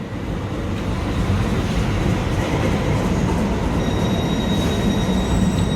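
A Tyne and Wear Metro train arrives at a station, a loud continuous rumble of wheels on rails with a thin high squeal building near the end, close and unbroken throughout.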